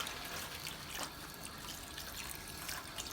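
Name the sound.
cold tap water rinsing homemade butter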